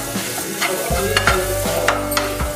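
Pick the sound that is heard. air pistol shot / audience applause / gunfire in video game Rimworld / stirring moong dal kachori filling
stirring moong dal kachori filling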